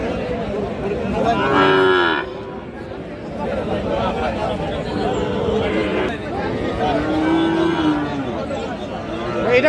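A Sahiwal bull calf lows loudly and repeatedly at a busy cattle market, its drawn-out moos rising over a steady hubbub of crowd chatter and other livestock close by.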